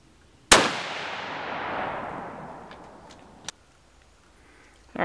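A single close, sharp rifle shot from a Savage Axis .308 while sighting in a scope at a range, its crack followed by a long fading rumble, then a faint click later.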